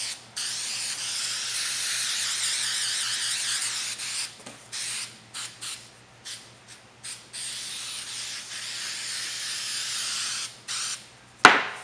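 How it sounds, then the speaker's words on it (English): Spray glue hisses from a can onto interior panel material for custom car panels, first in a long continuous spray and then in short separate bursts, ending with a sharp click. "try to avoid spraying this nasty glue over anything that matters to you"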